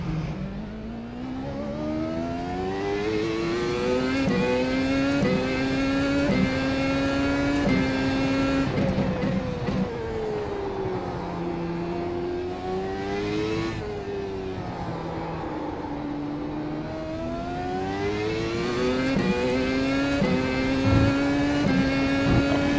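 A Williams Formula 1 car in the iRacing sim at Silverstone accelerates hard, its high engine note climbing and dropping through repeated gear changes. The sound stays loud and steady throughout, with no talking.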